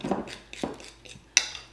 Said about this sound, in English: you're just gonna stir this up